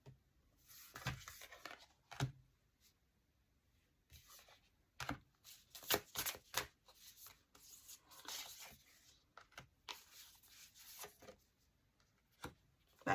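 Tarot cards being shuffled by hand, soft scattered riffling and rubbing strokes in short irregular bursts, quiet and close, with no talking.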